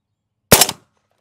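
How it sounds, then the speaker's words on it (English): A single suppressed subsonic 300 Blackout shot, a Hornady SubX 190 gr round, lands as one loud, close, abrupt crack with quick decay, surrounded by near silence. "We're going to see if it'll pick up a suppressed shot."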